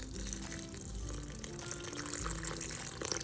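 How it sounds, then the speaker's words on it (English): Water pours steadily into Udupi-style instant dosa batter in a kitchen, a continuous close splashing stream with no talk over it. "And then add a lot of water to this."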